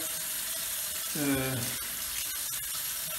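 Hot water running from a bathroom tap into a sink before a beard trim, a steady splashing stream with a brief louder gush partway through.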